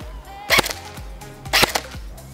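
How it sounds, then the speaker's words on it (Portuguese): An airsoft gun fires two sharp, snappy shots about a second apart at a mango, each crack short and loud against a quiet backdrop. "Eu vou dar um tiro só por vez."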